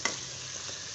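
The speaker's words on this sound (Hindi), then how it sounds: "तो टमाटरों को भी इसके साथ फ्राई कर लेंगे।" Tomatoes frying with spices in a pan give a steady close sizzle, with a sharp stir or clatter right at the start and no voices.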